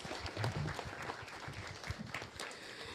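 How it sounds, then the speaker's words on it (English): Audience applause at a conference in Papua New Guinea, moderately loud scattered clapping that holds steady for about three seconds with some low rumble underneath. "So can we also give them a round of applause?"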